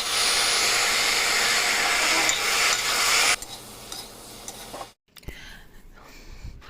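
Bottle gourd and potatoes fry with ginger, garlic and onion in a pan, a loud dense sizzle for a few seconds that then drops to a quieter crackle before a brief pause and a few stirring scrapes.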